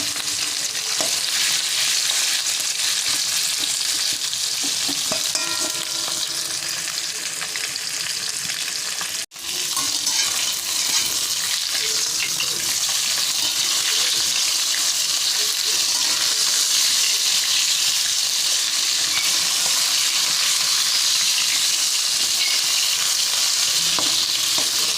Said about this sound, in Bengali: এবার মাছগুলো ভেজে নেবো।